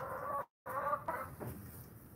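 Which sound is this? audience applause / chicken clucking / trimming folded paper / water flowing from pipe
chicken clucking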